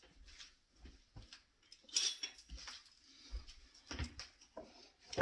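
A metal spoon clinks and scrapes against a pot of crockpot baked beans in a series of light, irregular taps and knocks, close by and fairly quiet, with a sharper clink partway through.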